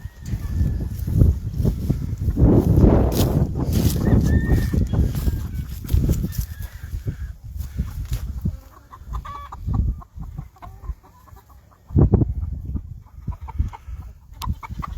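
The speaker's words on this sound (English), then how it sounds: "These are more of the hens down through here." Whitehackle hens and chickens cluck and chatter on a farm, a busy overlapping flock close by, louder at first and then thinning into scattered clucks and calls.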